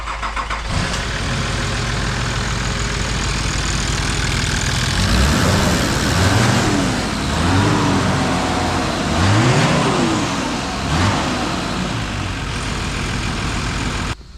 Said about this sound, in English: I'm gonna start the truck up with the stock fan in it so you can hear it